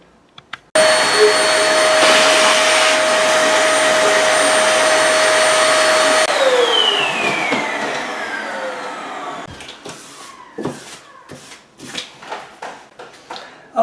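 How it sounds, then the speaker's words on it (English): A vacuum cleaner runs loud and steady over a freshly sanded oak floor patch, whining at full power, then spins down and cuts off, leaving scattered knocks and handling clatter nearby. "We'll take a vacuum cleaner and we'll clean this up"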